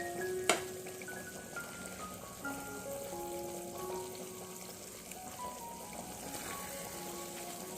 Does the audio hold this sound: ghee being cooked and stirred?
yes